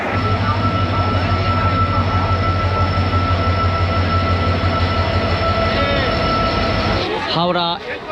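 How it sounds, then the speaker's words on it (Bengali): A train at platform 22 of a busy railway station sends out a steady low rumble and hum for about seven seconds. Wheels then squeal briefly as it moves, and voices can be heard around it. "অবশেষে আমাদের ট্রেন দিয়েছে বাইশ নম্বর প্ল্যাটফর্মে"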